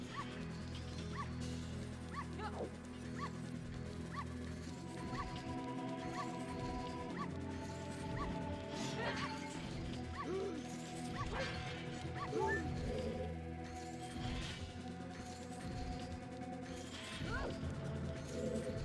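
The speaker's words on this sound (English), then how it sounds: "I just wanted to hear the puppy noise." A puppy in Zelda: Ocarina of Time gives repeated high yips and whimpers over a busy game soundtrack. The barks are fairly clear over the background music, with no talk.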